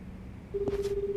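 A telephone being dialed in the video game Like a Dragon Gaiden: a short click and then a sustained steady tone, brief and clear with no talking.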